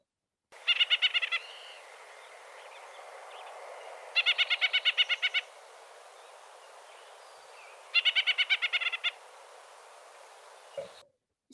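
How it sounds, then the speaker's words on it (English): A white-breasted nuthatch calls in three separate bursts of rapid nasal notes, each a quick run of about eight to ten beats, spaced a few seconds apart and clear against a quiet background. "we know these birds, the white-breasted nuthatch"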